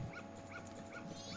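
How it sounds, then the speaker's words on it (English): Small dog in The Legend of Zelda: Majora's Mask yipping quietly in a short repeated pattern of about four barks, faint against low game background sound. "There's a dog."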